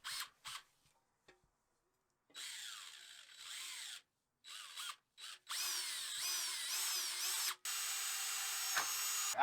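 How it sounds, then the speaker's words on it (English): A power drill boring a hole through a heater exchanger being installed on an Audi S4/S5 3.0T, in several short bursts followed by a longer steady whine, close and loud. "drill it from this side where it's nice and flat, so you can get a hole straight down right through the middle"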